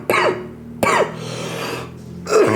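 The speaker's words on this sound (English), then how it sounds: "Still got a bit of a cough lagging" A person coughs twice in quick succession, then a third cough follows after a short pause, close and fairly loud over quiet background hum.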